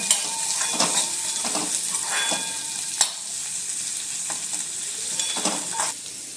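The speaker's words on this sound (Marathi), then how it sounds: "कांदा आणि लसूण आणि कढीपत्ता घालायचा, आणि हा पण असा थोडंसं ब्राऊन भाजून घ्यायचा" Onion, garlic and curry leaves fry in a pan for a home-style okra and potato dish, a steady sizzle broken by several scraping stirs and sharp clinks of a spoon against the pan.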